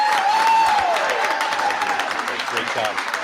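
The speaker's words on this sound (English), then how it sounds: "let's give this next gentleman a loud round of applause" Audience applause for a head coach at a school committee meeting, broad steady clapping mixed with a few voices and whoops, loud and close throughout.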